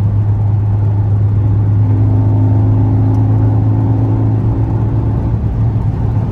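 A car accelerates hard on a highway, its engine droning as a loud, steady low rumble from inside the cabin with constant road and wind noise.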